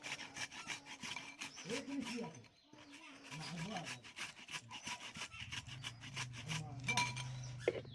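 Carrots rubbed against a hand grater for sweet carrot halwa, a steady run of raspy scraping strokes close by, with a low hum and some faint background noise entering in the second half.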